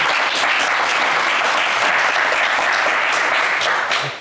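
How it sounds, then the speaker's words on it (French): A TV game-show studio audience claps loudly and continuously in a dense, sustained round of applause that fades slightly at the very end. "applaudissez-le très fort"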